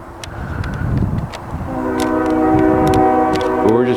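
A train rolls slowly past with rumbling wheels and clanking, then a long sustained horn blast sounds close and loud, held over the rail noise.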